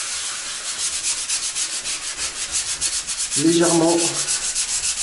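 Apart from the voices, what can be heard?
sanding concrete coating on tiled wall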